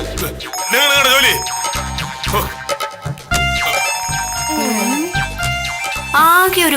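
A mobile phone ringing indoors in a TV comedy scene, a loud melodic ringtone with repeating warbling phrases that plays under and between people talking.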